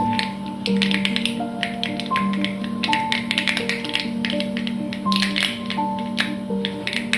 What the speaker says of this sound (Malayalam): കടുക് പൊട്ടിക്കുക